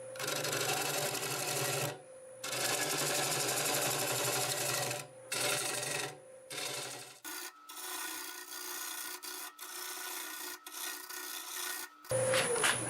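An apple wood bowl bottom is turned flat on a lathe with a tool scraping against the spinning wood, producing loud, rough rasping in sustained passes broken by brief silent stops.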